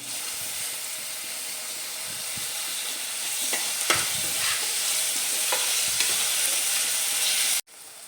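Tomatoes drop into a pan of browned onion and fry with a steady loud sizzle and hiss, broken by a few stirring scrapes and clinks, close up and without talk, ending abruptly.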